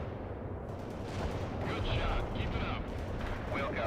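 Artillery barrage in the World in Conflict video game, a dense, continuous rumble of distant blasts and crackling gunfire rolling across the whole stretch, with game voice chatter faintly mixed in.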